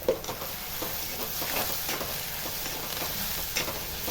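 Spices and coriander leaves sautéing in a pan for a Tamil fish curry, a steady low sizzle with soft stirring scrapes running throughout, fairly close and continuous with no voices.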